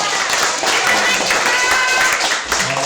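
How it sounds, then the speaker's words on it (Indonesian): An audience claps and applauds at the close of a writing workshop, a dense continuous patter of many hands throughout, fairly loud and close, with voices mixed in. "Tepuk tangan untuk saya Bapak Ibu."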